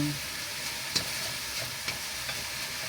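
Meat frying in its own rendered fat in a pan, a steady close sizzle with a few soft stirring knocks and scrapes, no voices.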